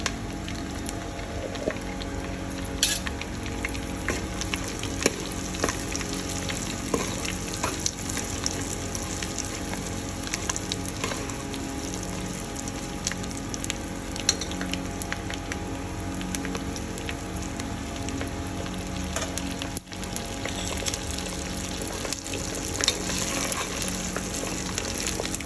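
Vadiyalu, sun-dried fritters, fry in hot oil with a steady, busy sizzle and scattered crackling pops that run on continuously, close up and without any talk.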